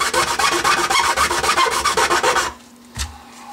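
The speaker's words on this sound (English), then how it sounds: "I know I'm using the file back and forth" A metal file rasping back and forth across the sawdust body of a Flying V guitar, steady rhythmic scraping strokes for a couple of seconds, loud and close, then a pause and one last short stroke.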